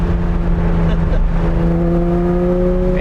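A classic Porsche 911 with a swapped 993 3.6-litre engine and GT3 exhaust holds a steady, smooth engine drone with a slowly rising pitch, heard close and fairly loud.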